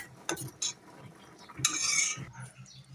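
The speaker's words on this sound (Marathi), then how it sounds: "आता आपण जे पास्ता शिजवून घेतलेला आहे ना तो याच्यामध्ये ॲड करणार आहोत" Cooked pasta stirred into a white cheese sauce in a pan, with soft scraping utensil strokes, a few clinks against the pan and a brief wetter burst of sizzle in the middle, all close and fairly quiet.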